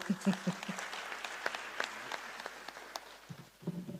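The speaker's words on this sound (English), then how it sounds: "A round of applause for him." A seated crowd at the launch of a Sahel governance forum attended by President Barrow breaks into warm applause, a sustained wash of clapping with a few sharper individual claps standing out, fading slightly toward the end.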